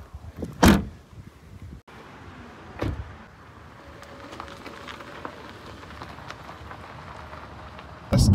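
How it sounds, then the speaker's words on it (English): The boot of a 2025 Toyota Yaris Cross Hybrid is shut with a single solid thud near the start, followed by a few softer knocks and a faint steady background before another bump at the end. "Go ahead and close the boot."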